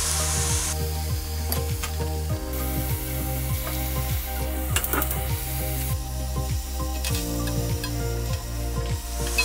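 Chicken pieces fry in a hot pan for lemon chicken, giving a steady, loud sizzle that carries on throughout, with no talking.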